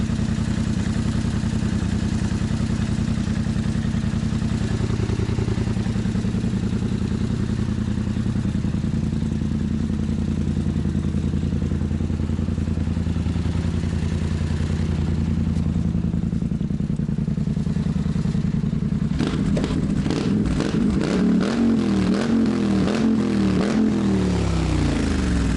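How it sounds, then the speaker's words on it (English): A Polaris Sportsman 1000 XP quad with a stainless steel exhaust idles with a deep, throaty rumble, then revs up in a series of sharp blips near the end, loud and close. "Got that big gun exhaust, stainless steel."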